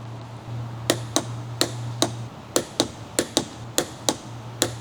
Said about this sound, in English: Using the torque wrench, torque the 3 retaining bolts.